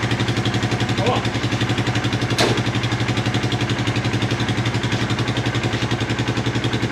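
Motorcycle engine idling, a steady near, loud pulsing putter throughout with a brief clank partway through.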